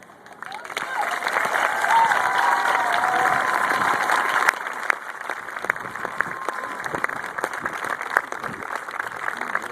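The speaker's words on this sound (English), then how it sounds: "Can we please get a round of applause for her?" Audience applause after a woman's inspirational story at a 2011 Relay for Life event in Barrington: a steady wash of many hands clapping fills the room, thinning into scattered claps with some cheering near the end.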